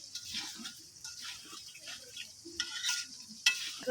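Potatoes and carrots frying in a pan, with a soft, uneven sizzle broken by repeated scraping stirs, fairly quiet and close, with no one speaking.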